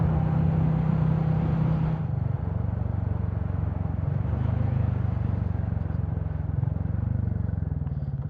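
A Royal Enfield Classic 350 motorcycle engine thumps steadily, then drops in pitch and note as it compression-brakes, staying close and fairly loud under continuous wind rush.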